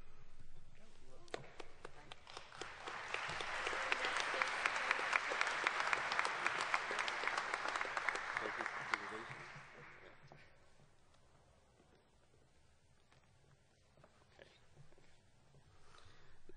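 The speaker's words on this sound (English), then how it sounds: "please hold your applause until the last student was recognized" Audience applause at a 2013 engineering senior recognition ceremony, swelling to a dense, sustained round of clapping for several seconds, then fading away to a quieter hall with scattered claps.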